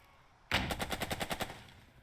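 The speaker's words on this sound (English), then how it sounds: "The air fills with a staccato 30 cal machine gun and light cannon as the tanks open up on a French position." A sudden, sharp burst of .30 cal machine gun fire in a tactical war video game, about ten rapid evenly spaced shots ringing out close and loud, then trailing off.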